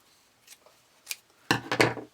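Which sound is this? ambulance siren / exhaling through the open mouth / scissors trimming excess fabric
scissors trimming excess fabric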